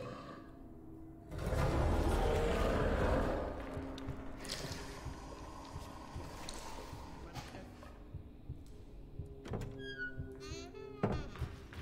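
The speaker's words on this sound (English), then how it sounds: "Gas grenade." Gas grenade thrown in Amnesia: The Bunker, a dull thunk followed by a loud hissing gush of gas for a couple of seconds, then quieter clanks and creaks in a dim game ambience.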